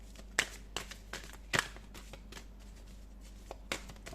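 Tarot cards are shuffled and drawn by hand, with close, soft riffling and sharp card snaps at irregular intervals in a quiet room, with no talking.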